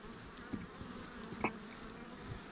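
Honeybees hum in a steady, dense drone, many buzzing together close by, with a brief louder buzz as one passes near.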